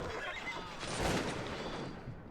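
Horses whinny in the video game Cossacks: Battle for Europe, a loud neigh rising in the middle over a busy battle wash with faint hoof clatter and distant gunfire, and no voices.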